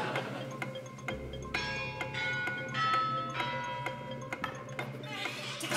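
A ticking clock beat under bright, chiming bell-like music, steady rhythm with sustained tones throughout: the Countdown game show clock music.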